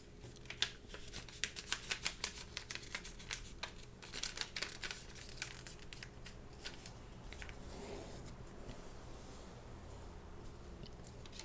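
Sheet of origami paper folded in half diagonally for a penguin ornament, giving a run of close, soft crinkles and sharp creasing ticks, busy at first and then settling into faint rustling.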